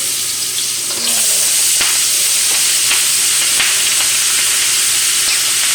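Vegetables dropped into hot butter and bacon fat in a pan, the sizzle jumping louder after a moment and settling into a loud, steady frying hiss with stirring clinks.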